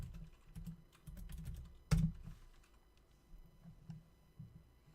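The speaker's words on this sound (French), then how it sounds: "Je vais donc dans la zone de recherche se trouvant en dessous de l'entête emploi, taper Alphone" Close, soft keystrokes tap on a computer keyboard while a search term is entered into a Crème CRM field. A heavier thump lands near the middle, and the faint clicking comes in uneven bursts with no voices.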